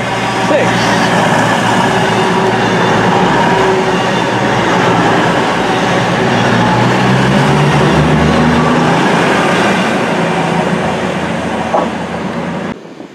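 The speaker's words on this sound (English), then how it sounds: "Here comes a passing Voyager. This is running from London Euston to Glasgow." Class 221 Voyager passenger train on the London Euston to Glasgow run roaring loudly through Stafford station, a continuous close rumble of engine and wheels lasting the whole clip before cutting off abruptly.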